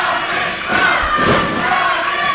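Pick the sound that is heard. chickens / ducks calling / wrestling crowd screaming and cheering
wrestling crowd screaming and cheering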